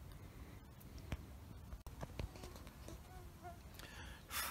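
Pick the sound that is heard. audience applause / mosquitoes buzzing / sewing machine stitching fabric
mosquitoes buzzing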